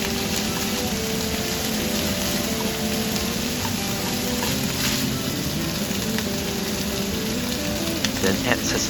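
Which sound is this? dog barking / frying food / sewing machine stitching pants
frying food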